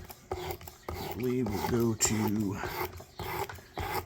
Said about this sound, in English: So this is the 80 stone or 80 grit sanding emery cloth. We're cutting it down.